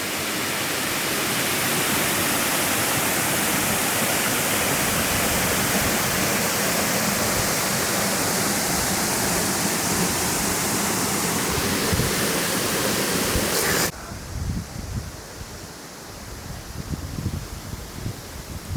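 A broad, constant roar of water pouring over a dam, loud and close, easing briefly to a rougher rush near the end.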